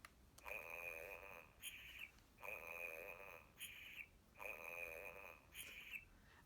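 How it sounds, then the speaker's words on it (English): Cartoonish owl snoring effect in a read-aloud Bambi story: three long, even snores, each a drawn-out whistling rasp followed by a short higher puff, in a slow steady rhythm with no talk over it. "once again Owl was snoring."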